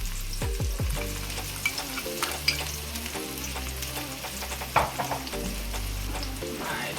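Chopped onion and green onion sizzle in a pan for a Creole vegetarian jambalaya, with scraping stirs and a few sharp utensil knocks over a continuous frying hiss. No talking is heard.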